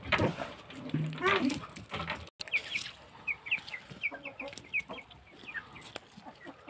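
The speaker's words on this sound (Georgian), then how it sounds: "აქ არის წარმოდგენილი კიდე ჩვეულებრივი სოფლის ჰიბრიდი წიწილები" Ordinary village hybrid chicks cheep in a run of short, high peeps, fairly close, with a rooster-like cluck and other farmyard sounds early on; the peeping continues alone after a brief gap.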